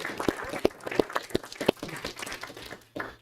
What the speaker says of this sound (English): can we just get one more round of applause for the exceptionality that Tri-Valley just demonstrated here in front of us?